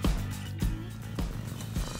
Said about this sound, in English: But the best is to hear him purr.